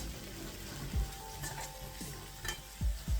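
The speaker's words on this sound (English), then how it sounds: "Stir it nicely." Turmeric and ground masalas being stirred in a pan for egg bhurji, a soft frying sizzle broken by a few low scraping strokes of a spoon, close and short, with no talking.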